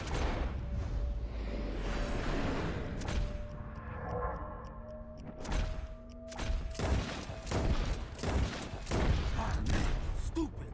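Gunshots fired at birds in the western video game Red Dead Redemption, a quick cluster of loud, sharp cracks in the latter half over game ambience, with a brief voice mixed in.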